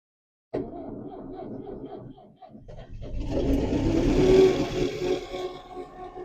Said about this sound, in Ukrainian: зараз подивимося, як заведеться трактор